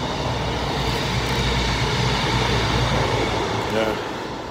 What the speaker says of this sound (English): That's another train coming through.